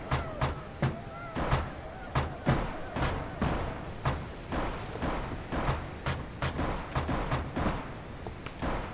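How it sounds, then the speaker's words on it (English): Repeated sharp gunshots in Minecraft crack out at irregular intervals, about a dozen over several seconds, with low rumbling thuds between them and faint background noise. "I am hearing gunshots already."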